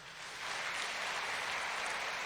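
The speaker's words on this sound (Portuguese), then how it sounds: "Você pode dar uma salva de palmas ao Senhor?" Congregation applauding during a Sunday church service, a steady wash of clapping that swells in after a brief lead-in and holds at an even level, fairly soft and somewhat distant.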